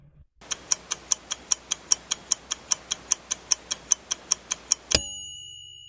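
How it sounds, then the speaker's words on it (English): Steady mechanical ticking, about four ticks per second, crisp and close, running for several seconds and ending with a sharp click. "I'll set the timer and give you 5 seconds to think it over."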